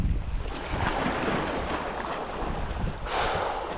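Strong sea wind buffets the microphone aboard a squid fishing boat off Ko Si Chang, Thailand, a loud rumbling gusty roar mixed with wave wash that rises again near the end.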